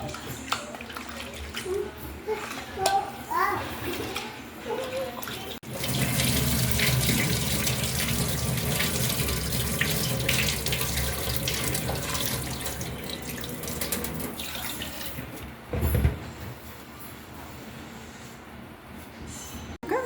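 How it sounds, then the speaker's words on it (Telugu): Running tap water pours steadily into a container for most of the clip, a continuous rushing splash with a few clunks and knocks. "కొంచెం నీళ్ళు నింపి పెట్టుకోవాలి"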